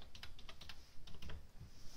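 A password is tapped out on the touchscreen keyboard of an HP Slate 21, a quick, irregular run of light, close taps in two short bursts, faint and with no talking.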